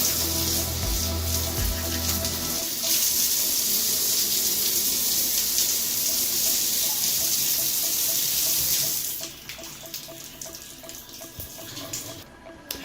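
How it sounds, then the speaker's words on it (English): A hotel shower's steady rushing water pours close by for most of the clip, then cuts back to a quieter trickle near the end. "Has decent water pressure."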